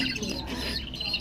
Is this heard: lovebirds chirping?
yes